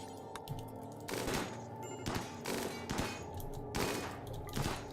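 Repeated bursts of gunfire from colonists in the video game Rimworld, sharp cracks and volleys spaced roughly every second over a steady background, moderately loud with no talk.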